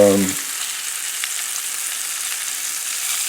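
Shrimp sizzling steadily in a hot pan while being turned, a continuous close frying hiss with faint stirring scrapes, preceded by a brief tonal sound at the very start.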